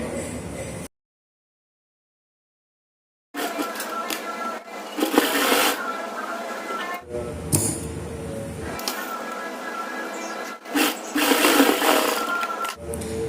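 A sewing machine stitches lace onto a hanging tassel cord in quick whirring bursts, separated by short pauses and one longer silent gap, close and clear.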